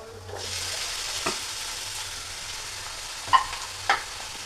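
Steady sizzle of onions frying in a pan for a prawn roast, with a few brief clinks of stirring over the continuous hiss, close up and alone.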